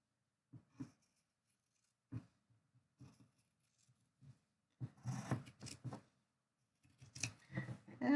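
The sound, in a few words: cutting along the edge of tape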